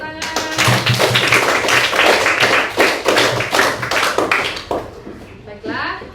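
A classroom of pupils claps hands in a brisk, uneven burst of sharp slaps that thins out near the end, with children's voices mixed in.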